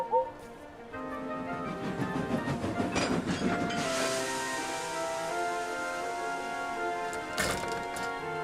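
A cartoon steam engine puffing out of a snowy station after brooms swept the snow away, a busy, continuous rumble of rolling wheels and chuffing with a bright burst late on, steady and fairly loud throughout.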